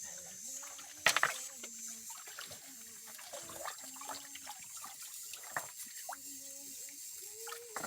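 Water from a mountain spring source trickles and splashes steadily in the background, faint and close, with a sharper splash early on and a voice talking over it.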